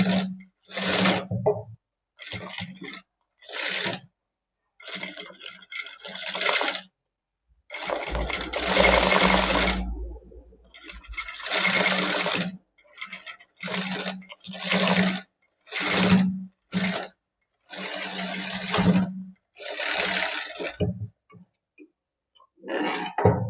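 A sewing machine stitches the princess-cut back of a garment in many short, stop-start bursts, each run lasting a second or two with quiet gaps between.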